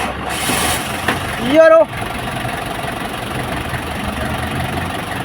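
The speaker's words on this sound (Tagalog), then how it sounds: "Suwabe na yung ating andar ng Hyundai H100." A Hyundai H-100 van engine with a damaged rocker arm and worn bearings cranks briefly and then settles into a steady, even idle, with a person speaking over it.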